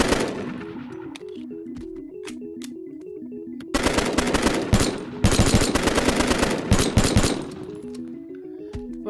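Video game AK-47 fitted with an underbarrel attachment firing rapid automatic bursts, loud and close, with shorter bursts in the first few seconds and longer sustained fire from about four seconds on, over a melodic electronic music bed.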